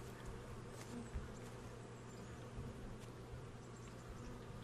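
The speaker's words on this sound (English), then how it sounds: "Is that bees? Can I harvest honey?" Bees buzzing steadily in the medieval video game Kingdom Come, a continuous insect drone with game ambience beneath it and no voices.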